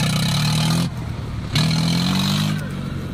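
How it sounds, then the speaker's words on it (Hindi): A Mahindra tractor engine revving hard during a stunt event, with a loud, close, droning roar that cuts out briefly near the middle and then surges back. "महिंद्रा की रड़क"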